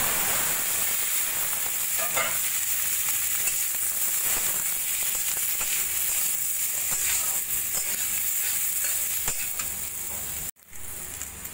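Fennel seeds and steamed mango sizzle in a spoonful of white oil in a wok for mango chutney, a steady close hiss with occasional stirring scrapes until an abrupt stop.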